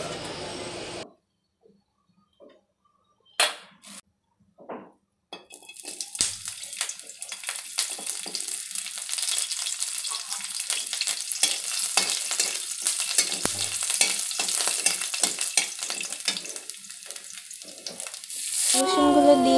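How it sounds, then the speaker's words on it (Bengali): Garlic drops into hot oil left from frying chillies. After a few quiet seconds with scattered clatter, a dense, crackling sizzle starts and carries on steadily at a close, moderate level until near the end. "এই তেলের ভিতরে আমি দিয়ে দিব রসুন"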